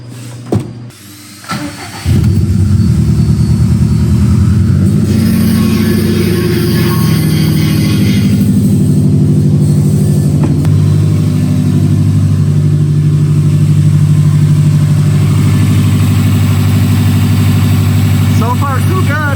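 Subaru STI engine cranking and firing up after an oil cooler install, a brief starter whir, then a loud, steady idle with a deep rumble and a faint rising whine; someone talks briefly.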